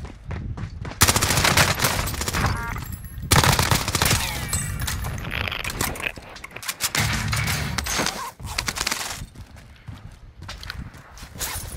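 Dense Call of Duty gunfire fills the scene: rapid automatic bursts and fusillades crackle loud and close, broken by brief lulls, with scattered single shots and footstep-like clatter in between.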